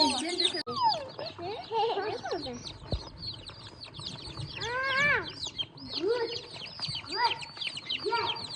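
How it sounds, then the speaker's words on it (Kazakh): A crowd of broiler chicks in a village poultry house peep continuously, with many overlapping high chirps at close range and a few louder calls mixed in. "Бұлар бройлер балапандар"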